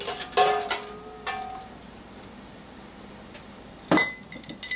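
Glass canning jars clink and knock against each other in a pot of hot boiling water, several bright ringing chinks clustered at the start and another sharp clink near the end, with a faint bubbling hiss between.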